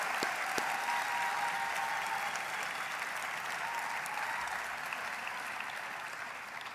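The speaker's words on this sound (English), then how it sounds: "to thank them with a round of applause." Sustained, dense applause from a large audience at a veterinary science faculty graduation ceremony, a steady even roar of many hands that holds for several seconds and eases slightly toward the end.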